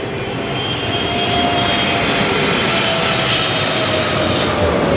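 A landing airplane gives off a loud, continuous roar that swells slightly and holds steady throughout, with no voices heard.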